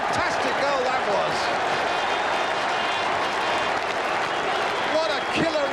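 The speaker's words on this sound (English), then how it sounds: "Applause from Kenny Dalglish" Stadium crowd at a Liverpool football match applauding and cheering after a goal scored by Ronnie Whelan, a steady loud roar of clapping filling the whole stretch.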